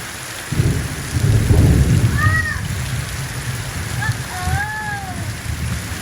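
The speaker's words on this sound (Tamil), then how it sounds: "வெளியில வந்து சரியான மழை எதிர்பார்க்காத நேரத்துல வந்து அப்படி ஒரு மழை அடிச்சு ஊத்தி கொண்டிருக்கு" Heavy rain pours down outdoors with a steady loud roar and low thunder rumbles, and a bird calls twice in the background.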